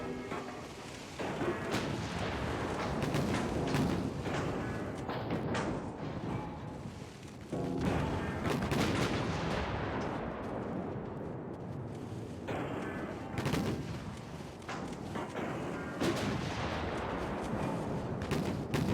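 Heavy naval gunfire from warships in Ultimate Admiral Dreadnoughts, booming salvos and rolling blasts that come again and again over about nineteen seconds, loud and dense with no clear pauses between the reports.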